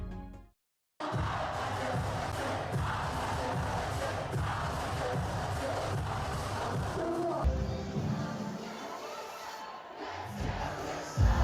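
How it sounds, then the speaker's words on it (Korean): A packed club in downtown Los Angeles erupts as K-pop plays, the crowd cheering and singing along loudly and continuously, a dense roar of voices that drops out briefly near the start and then surges back. "익숙한 K-팝 음악이 흘러나오자 미친 듯한 환호성과 떼창이 이어지는데요"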